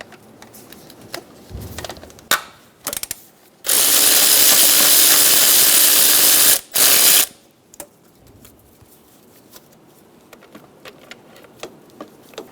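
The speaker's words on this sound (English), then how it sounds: "Using a 12mm socket, we're going to remove the two bolts for the intake / injector cover." A ratchet with a 12mm socket backs out the two bolts on the intake injector cover of a 2010-2014 Subaru Outback, producing short clicking bursts around a long, loud steady whir that suggests a power tool, close up with no talking.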